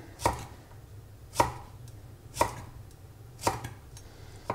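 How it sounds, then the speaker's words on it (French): Four crisp knife strokes slice a spring onion into thin rounds on a cutting board, each a sharp close tap spaced about a second apart over a quiet background hum. "je le coupe en fines rondelles"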